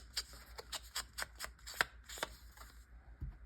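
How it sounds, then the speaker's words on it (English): Ink pad dabbed and rubbed along the edges of paper envelopes for a Christmas advent calendar folio, a quick run of close, crisp papery scuffs in short bursts, then a pause and a soft thump. "At this step, I ink the edges."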